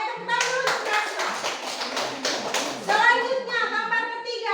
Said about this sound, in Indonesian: tepuk tangan dulu untuk Gracio